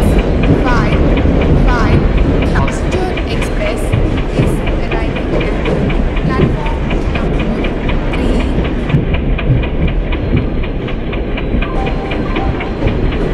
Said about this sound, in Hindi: बस थोड़ा सा आगे जाके हम लोग अपने ट्रेन को रोक देंगे।